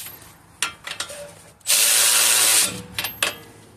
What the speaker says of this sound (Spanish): Vamos a ajustar un poquito la tuerca.